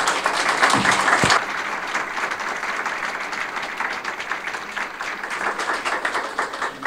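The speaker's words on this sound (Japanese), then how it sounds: "お二方のこれからのですね、ご健勝を祝してぜひ大きな拍手をお願いいたします" Audience applause for the panelists at the close of a 2012 Okutama town mayoral election public debate, a dense steady wash of many hands clapping, fairly close and continuing throughout.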